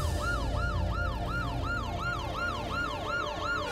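A police siren wails in a steady, repeating up-and-down sweep, loud and continuous, with no talking over it.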